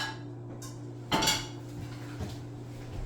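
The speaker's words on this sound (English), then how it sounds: "And we're going to put the pot on the stove." A metal cooking pot is set down on a stove, making a single clanking thud in the middle of the sound, followed by a fainter scrape and knock. Behind it there is a low, steady hum and nobody speaks.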